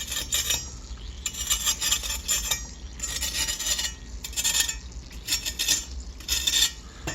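Broiled jerk pork belly crackling is scraped and tapped with a knife or utensil, giving bursts of crisp, rasping crunches in an irregular rhythm, close and fairly quiet.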